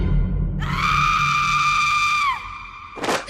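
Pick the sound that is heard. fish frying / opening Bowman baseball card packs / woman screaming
woman screaming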